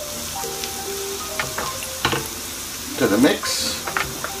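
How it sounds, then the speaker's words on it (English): Fresh chopped garlic sautéing in a pan for a garlic prawn pasta, a steady low sizzle with a few stirring scrapes and a louder burst of activity midway, a brief voice heard over it. "Just gonna just saute that while it locks all of the flavor in."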